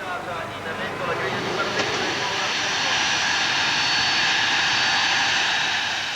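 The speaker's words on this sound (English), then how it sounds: "Thursday, Ayrton Senna flies into Milan in his own private jet." Engines of a private jet flying into Milan roar loud and steady, a broad rushing whine that swells slightly, with a narrator's voice speaking over it.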